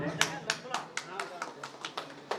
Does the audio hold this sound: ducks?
no